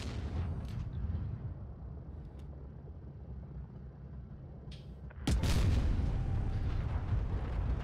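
A sharp, heavy tank cannon blast in World of Tanks Blitz erupts and rolls into a sustained rumble, following a stretch of low engine-like droning with faint metallic clanks.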